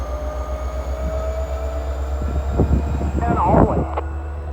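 A train rumbling past a rural rail crossing, a steady low drone with a sustained horn-like tone, clattering wheels building toward the end, heard at moderate distance and fairly loud.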